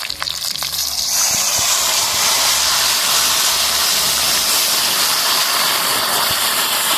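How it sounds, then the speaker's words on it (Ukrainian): Pork belly sizzles loudly in a hot pan, and as beer is poured in a sudden burst of hiss and steam takes over, continuous and close. "Як хварчить, уже гарно і пахне."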